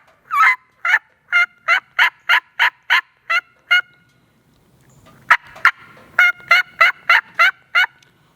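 Wild turkey gobbles and yelps ring out in a fast run of about a dozen sharp, evenly spaced notes, a short pause, then a second rapid series, loud and close with no talking.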